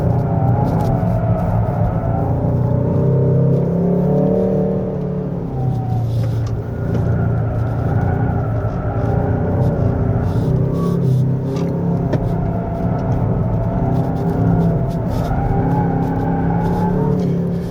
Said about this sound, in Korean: 계속 이제 오른쪽 앞바퀴에서도 소리가 나죠